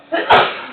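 A single short sneeze bursts out during a meeting, loud and close, right after a brief spoken word.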